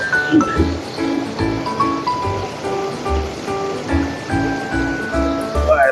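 A mountain stream babbles and splashes steadily over rocks nearby, a continuous bubbling flow with no voices.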